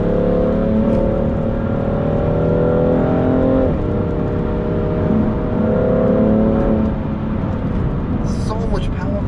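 A stock BMW F80 M3 Competition Pack drives on wet roads, its engine droning steadily with one gear change partway through, while a voice talks over the cabin noise.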